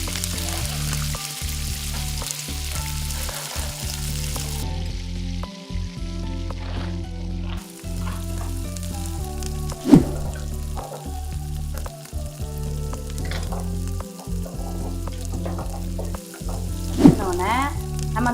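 Chopped big onions and broken chillies fry in a pan for a sundakkai chutney, a steady loud sizzle with occasional scrapes and clinks of stirring throughout.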